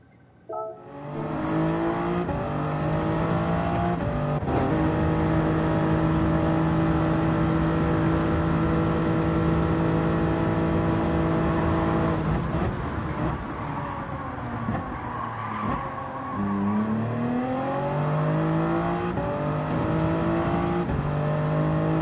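A Grand Valley GR3 race car in Gran Turismo 7 held at full throttle out of a corner, its engine note climbing steadily through gear changes, loud and continuous with no talk.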